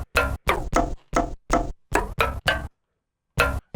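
A sampled hit on a pipe, pitched down, repeats as a rhythmic series of short, heavy metallic knocks, about nine even strikes followed by a gap and two more, loud and dry with no talking.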